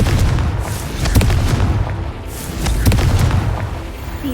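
Confringo spell blasts from Hogwarts Legacy, with loud, booming bursts that hit repeatedly over a dense, rumbling roar of explosion and debris.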